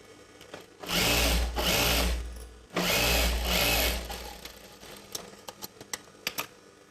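A sewing machine joins the pieces of a chudidar gathering pant, its motor whirring in two sustained bursts near the mic, then falling to scattered clicks and taps of fabric handling.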